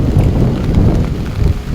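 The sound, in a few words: heavy rain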